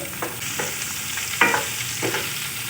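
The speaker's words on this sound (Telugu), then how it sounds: "ఇప్పుడు ఉల్లిపాయ వేస్తున్నానండి. మూడు ఉల్లిపాయలు కోసానండి. ఉల్లిపాయలు వేస్తున్నాను." Three sliced onions go into a hot pan for bottle gourd kurma, with a steady sizzle of frying and a few short scraping stirs close by. No talk is heard.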